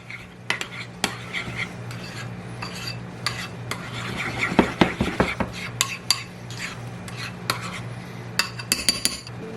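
A spoon stirs half a cup of mayonnaise with three teaspoons of sriracha in a bowl, giving a steady run of close scraping clinks and thick wet swishes, a few louder knocks against the bowl midway and near the end, with no talking.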